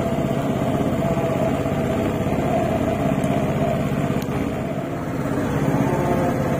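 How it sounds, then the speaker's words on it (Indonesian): A Vespa Matic scooter engine idles steadily after an electrical check for stalling. It gives a constant, close, even drone throughout, with no talk over it. "motornya sudah normal nyala"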